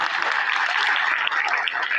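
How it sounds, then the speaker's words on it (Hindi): Audience applause at the close of a session at a revival program gathering, a dense, steady wash of many hands clapping at once that holds loud and even from start to finish. "एक बार पहले इस सेशन के लिए जोरदार तालियां हो जाए"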